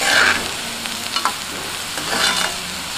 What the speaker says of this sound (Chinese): 这点鱼煎一下